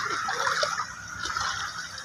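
Edible slaked lime soaking in water in a container is stirred by hand, giving a steady wet sloshing and splashing that runs close and continuous for about two seconds.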